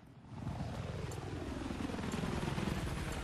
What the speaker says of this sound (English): the fucking chopper's coming.